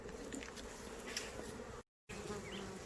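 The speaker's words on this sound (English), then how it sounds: "There are bees flying into there though." Honeybees buzz around a hive box, a dense steady hum of many insects nearby. The sound drops out briefly in a short silent gap.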